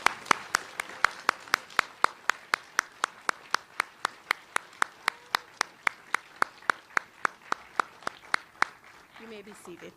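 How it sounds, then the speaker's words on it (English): An audience at a high school awards night applauds students, heard as a steady run of sharp, evenly spaced claps over about ten seconds that stops near the end, leaving faint murmuring. "let's have another round of applause for all of these outstanding students."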